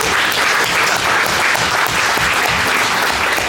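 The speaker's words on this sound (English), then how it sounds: "let's just give him a massive round of applause" Audience applause at a boxing press conference, a loud, dense and steady roar of clapping from a packed room, unbroken across the whole span.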